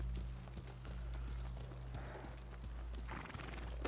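Horse hooves in Ghost of Tsushima thud in a steady, rhythmic clip-clop, with a brief whinny-like snort. The gallop stays close and continuous over a low, constant game drone.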